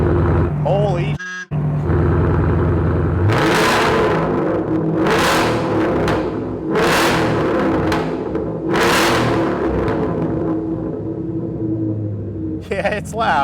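A 2018-2025 Ford Mustang GT fitted with a Flowmaster Scavenger exhaust and resonator delete X-pipe idles with a deep rumble, then roars through four loud, sharp revs spaced a couple of seconds apart, with a voice briefly heard.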